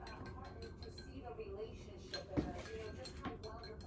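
A spoon clinks against a cup while stirring tea with added sugar and milk. The taps are faint and sparse, a few light chinks heard under people talking nearby.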